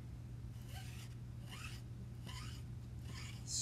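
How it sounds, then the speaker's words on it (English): Chalk paste being scraped across a stencil with a squeegee-like tool, four repeated rasping strokes of moderate loudness over a steady low hum. "Scrapey scrape."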